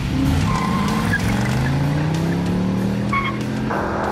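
A BMW 540i and a Mercedes E500 launch together at a race start, with loud, close engines revving hard and climbing steadily in pitch, brief tyre squeal cutting in, and a gear change near the end.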